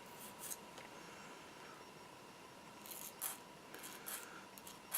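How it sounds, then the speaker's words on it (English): A metal file run over excess soft solder on photo-etched parts makes a few short, close rasping strokes, spaced irregularly over quiet background hiss. "to clean up the excess on the outside, we just run the file over it a few times"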